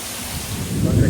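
Steady broadband hiss of heavy monsoon-style downpour on flooded roads, swelling louder toward the end with a low rumbling undertone.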